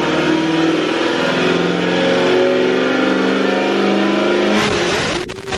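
Chevrolet Corvette Z06 with a newly installed cam revving hard on a dynamometer pull, a loud sustained engine roar climbing in pitch before cutting off abruptly near the end.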